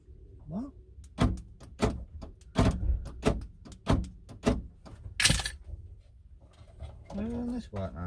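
A car door on a vehicle with an unpowered actuator is worked by hand, giving a string of sharp, close clunks and latch clicks at an irregular pace. Brief speech comes at the start and end.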